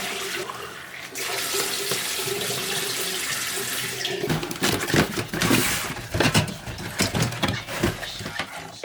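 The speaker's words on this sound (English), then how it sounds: "I'd just come home to fill the bottles up." Tap water runs steadily into drink bottles at home, a loud continuous gush that turns splashier and more broken partway through as the bottles fill.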